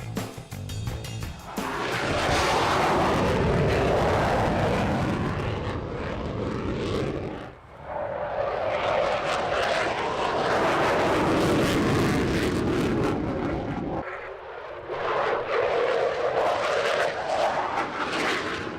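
A Ukrainian Air Force Sukhoi Su-27 Flanker jet flies at an airshow in poor weather, its loud roaring engine noise rising and fading in long sweeping passes with brief dips between.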